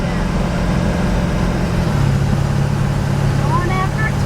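A 1957 Chevy driving with a loud, steady low engine rumble and road noise filling the whole stretch, the tone shifting slightly partway through.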